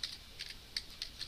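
Quiet, close typing on a computer keyboard, a light run of about half a dozen clicking keystrokes at an uneven pace.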